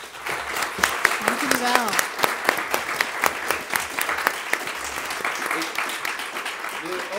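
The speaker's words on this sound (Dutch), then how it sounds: "Heel graag een groot applaus" An audience at a student election debate in Amsterdam applauds warmly with dense, continuous clapping and some louder individual claps standing out, while a voice speaks briefly over it.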